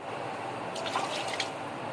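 Water is poured into a cooking pot of onion-browning oil while making a 1 kg Karachi-style chicken biryani, giving a soft, steady splashing trickle with a few brighter bursts midway, quiet and unaccompanied by speech.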